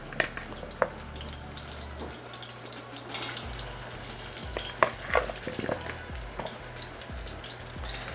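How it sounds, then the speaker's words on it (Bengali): Halved potatoes fry in plenty of oil for kacchi biryani, a soft steady sizzle close by with occasional clinks and stirring knocks against the pan. "আমরা যে তেলটাতে আলু ভাজবো সেই তেলটাই কিন্তু ইনফ্যাক্ট বিরিয়ানির ভেতরে দিব"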